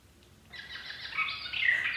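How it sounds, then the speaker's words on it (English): Birds chirp and sing outdoors in a quiet setting, a thin high warbling that begins after a moment of near silence and grows slightly louder over two seconds. "Do you hear the birds?"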